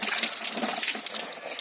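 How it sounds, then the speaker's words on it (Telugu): Water runs in a continuous close gush from a poorly working tap during a shampoo prank, a bright steady splashing flow with no voices. "నీళ్ళు వస్తుంది."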